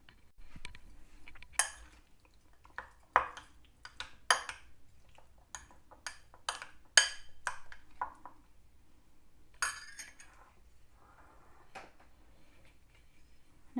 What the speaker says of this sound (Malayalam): ഞാൻ ഡ്രൈ ഫ്രൂട്ട്സ് ഈ കേക്ക് ബാറ്ററിലേക്ക് ചേർക്കുവാണ്. നന്നായിട്ട് മിക്സ് ചെയ്ത് കൊടുക്കാം.